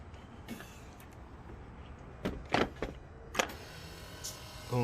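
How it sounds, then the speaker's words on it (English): An ABS pump motor on a 2013 Toyota Camry Hybrid, faulted with stored codes, cycles on and off, heard faintly through a low background hum with a few short whirring bursts near the end. "I hear the pump coming on and off"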